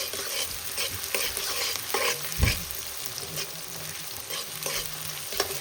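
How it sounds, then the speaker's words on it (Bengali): Onions fry in a pan as the first step of a crab curry, giving a steady, close sizzle broken by stirring scrapes and one louder knock. "প্রথমে দেবো পেঁয়াজ।"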